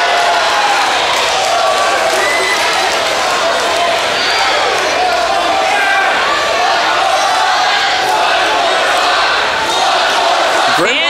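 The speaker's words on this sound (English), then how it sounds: "Now the fans are encouraging the beatdown." A wrestling crowd at Stage AE roars during a steel cage match beatdown, a dense, loud, continuous wall of cheering and shouting, with a commentator talking over it.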